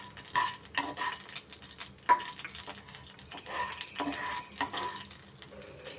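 Whole cinnamon, cloves and cardamom being stirred around in hot oil in a pan, giving soft scraping and light sizzling in uneven bursts, close and fairly quiet, with no talking.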